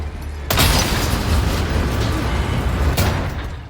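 A cannon in the castle section of Resident Evil 4 Remake fires with a sudden loud boom that gives way to a long, rumbling roar, and a second sharp blast strikes near the end.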